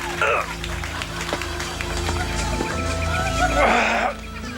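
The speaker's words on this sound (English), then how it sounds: "That's a horse." A horse whinnies close by in two loud bursts, one at the start and one near the end, over steady crowd chatter and background noise.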